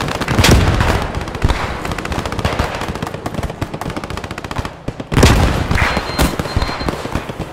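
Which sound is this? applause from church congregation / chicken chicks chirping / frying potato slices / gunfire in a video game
gunfire in a video game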